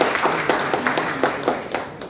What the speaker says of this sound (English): let's give him a round of applause and welcome